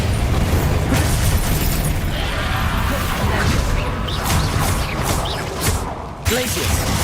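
A Bombarda spell blasts in Hogwarts Legacy, a loud crashing explosion with heavy low rumble and debris-like bursts that keeps churning, ending with a sharp final impact.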